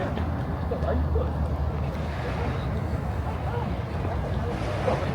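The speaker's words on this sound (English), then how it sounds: "I can see the Maid off the Forth coming in just now." The Maid of the Forth tour boat comes in to the pier with a steady low engine rumble, blended with wind and water noise at moderate distance.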